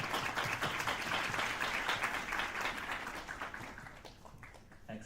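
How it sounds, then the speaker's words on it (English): An audience at a student project presentation event gives a steady round of applause, dense clapping that holds for several seconds and then gradually thins and fades. "One more round of applause."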